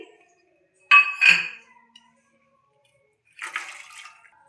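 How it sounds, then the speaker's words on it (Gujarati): Soaked toor, chana and masoor dal for khichdi are rinsed in water, giving two short bursts of sloshing and splashing with faint clinks against the vessel, separated by a quiet pause. "આપણે બધી દાળ ધોઈ લેશું 2 પાણીએ."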